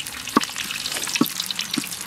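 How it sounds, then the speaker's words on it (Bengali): Bay leaf and dried red chilies sizzling in hot oil left from frying cauliflower, a steady bright crackle with a few louder pops, close and continuous. "ফুলকপি ভেজে নিয়েছি, সেই তেলে আমরা ফোড়নটা দেব। প্রথমে দেব তেজপাতা, তারপরে অল্প কিছু শুকনো লঙ্কা"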